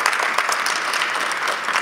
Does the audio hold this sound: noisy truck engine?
no